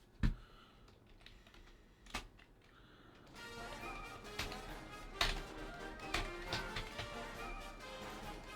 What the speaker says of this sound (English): I was typing a little bit